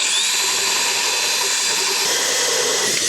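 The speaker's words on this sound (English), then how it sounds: "I think now I'm just gonna drill it out from the other side" A power drill bores through the wall of a cargo trailer, a steady high-pitched whine held loud and close for the whole stretch, with no talking.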